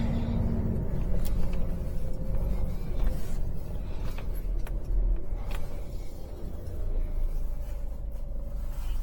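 A Class 1 HGV lorry swings round in a turn, giving a steady low diesel rumble close by with faint clicks and knocks over it, with no talk.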